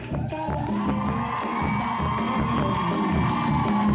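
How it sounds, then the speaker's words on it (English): A crowd at a fan convention panel (JIBCON 2014) cheering and shouting, with whoops and yells blending into a continuous roar, fairly loud and sustained throughout. "would you give a big round of applause for Sebastian?"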